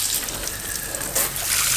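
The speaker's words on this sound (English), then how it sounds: "To turn on the cockpit shower," Water runs from the cockpit shower of a Dufour 460 Grand Large sailboat as a soft, close, steady spray lasting under two seconds, with no talking over it.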